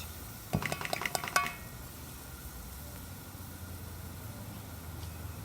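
Vegetables being tossed and stirred in a pan for bhaji, a quick cluster of metallic clinks and scrapes early on, then quiet low background, faint and close.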